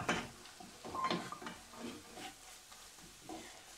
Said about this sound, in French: Et là on va mélanger.